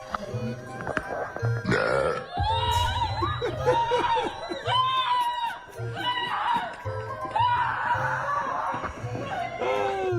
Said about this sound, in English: the strange and horrifying sound of a loud burp